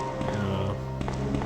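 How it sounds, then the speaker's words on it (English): Footsteps clanking up a metal ladder in Resident Evil 2, a steady run of loud taps and thuds with an echoey quality, heard alone without talk. "And again, that loud-ass ladder."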